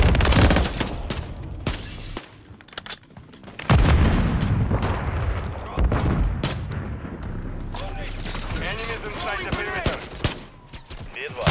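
Call of Duty gameplay on the Terminal map in Hardpoint mode, with a Semtex grenade explosion amid bursts of gunfire and booms, loud and close, mixed with voice callouts.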